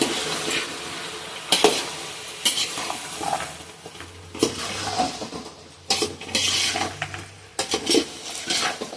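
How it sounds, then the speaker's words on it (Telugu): A mixed vegetable curry gets stirred in a pan, with repeated scraping strokes of a spoon against metal and a low sizzle underneath, loud and close, no voices. "ఒకసారి బాగా కలిపేసుకుందాం"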